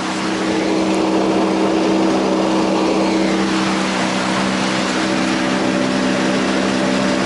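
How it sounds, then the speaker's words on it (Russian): A boat's outboard motor drones loudly and steadily throughout, a constant mechanical hum with rushing wind and water noise, no voices. "Мотор, когда разгружен, он немножечко быстро идет."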